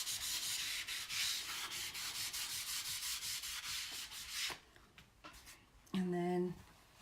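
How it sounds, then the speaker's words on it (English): A board eraser rubs a water film off a chalkboard in rhythmic back-and-forth strokes, close and steady for several seconds before quieter scattered touches and a final short burst of scrubbing. "I can just use my board eraser and it takes that film off."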